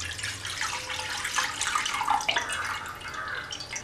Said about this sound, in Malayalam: അതിലേക്ക് നമ്മളിവിടെ എടുത്തു വച്ചിരിക്കുന്ന രണ്ട് കപ്പ് പാലൊഴിച്ചു കൊടുക്കാം.